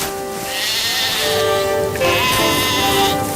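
Sheep bleat close by, two or three drawn-out, wavering calls that overlap one another, loud and clear with no talking.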